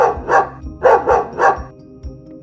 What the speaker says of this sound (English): And behind the cook, a big dog came barking loudly.